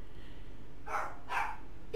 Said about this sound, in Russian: Как обычно, собака лает.